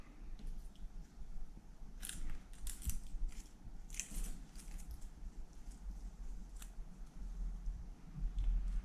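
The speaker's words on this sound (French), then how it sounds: "Voilà, je coupe l'excédent." Scissors snipping excess nylon fishing line while tying a mullet rig, a few small quiet crisp cuts clustered together over low room background, with no talk.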